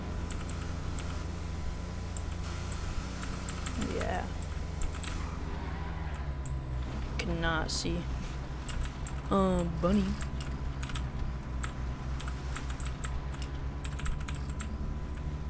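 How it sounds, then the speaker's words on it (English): A computer keyboard clicks and clacks in quick, irregular bursts of light keystrokes during a GTA V gaming session, steady throughout, with a low background hum and a few voices speaking over it. "if you hear my clickety-clackety keyboard, my bad"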